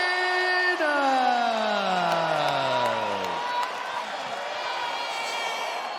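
A UFC arena crowd roars and cheers after a submission win, a big sustained wash of voices with whoops and a falling whistle or horn tone at the start, slowly settling to a steady crowd murmur.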